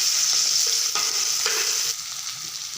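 Onions sizzle in hot oil with pumpkin in a pan, a loud continuous crackling hiss broken by a few stirring scrapes, close up, the frying easing slightly toward the end.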